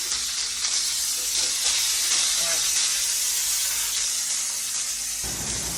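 Pork chops fry in a pan with a steady, close sizzle and hiss that keeps going throughout, with faint stirring noises and a voice speaking underneath.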